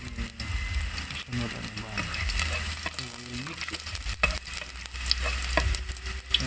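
Garlic frying in vegetable oil in a pan, a steady bright sizzle with occasional stirring scrapes, with speech faintly present over the cooking noise.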